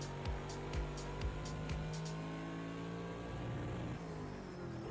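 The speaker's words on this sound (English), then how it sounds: "you'll really hear that engine note just bog down" A GT3 race car in the racing game Project Cars 2 at Laguna Seca, its engine droning steadily with several quick pitch drops as the note bogs down near the last turn, heard close and alone.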